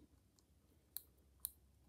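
A Cadisen C8206M wristwatch with an NH35 movement gives two sharp, faint clicks about half a second apart, close up in a quiet room.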